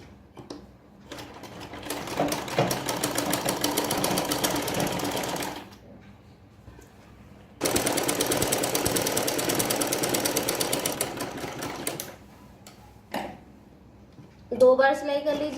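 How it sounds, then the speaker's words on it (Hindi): An electric sewing machine stitches salwar panels with a fast, rattling whir. It runs in two long bursts separated by a pause, and someone talks briefly near the end. "दो बार सिलाई कर लीजिए दोनों साइड रुमाली वाले हिस्से पे।"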